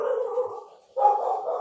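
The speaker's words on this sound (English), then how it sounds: "Lincoln, that's the puppy" A puppy yelps and whines close by in a sustained, wavering cry that breaks off briefly and then resumes just as loudly, with no talking.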